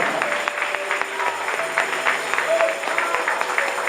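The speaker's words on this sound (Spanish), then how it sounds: "Dale el aplauso a él" Church congregation clapping during a sermon, a steady round of applause with scattered voices and shouts mixed in over a reverberant hall.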